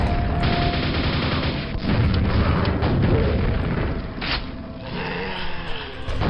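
Rocket blasts in Quake during retro map play: a loud, continuous run of booming explosions and impacts, with deep rumbling bursts repeating over several seconds and no speech on top.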